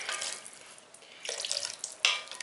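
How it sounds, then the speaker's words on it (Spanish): Vegetable broth poured over chicken thighs in a pan, a short hissing, splashing pour with a brief louder splash near the end, close and without talk. "vamos a cubrirlo con el caldito que tenemos aquí, de verduritas"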